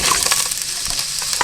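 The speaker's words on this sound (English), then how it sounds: "I'm just going to add my carrots, my celery and my onions in here" Carrots, celery and onions for butternut squash soup fry in oil in a pan aboard a narrowboat, a loud, dense, continuous sizzle with faint stirring, no talking.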